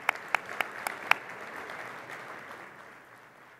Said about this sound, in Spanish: Nuevamente felicitaciones y el aplauso de todos ustedes.